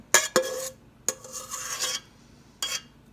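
A spoon scraping and stirring Thanksgiving food in a dish, heard as several short raspy scrapes and clinks with brief pauses between them, close and clear with no talking.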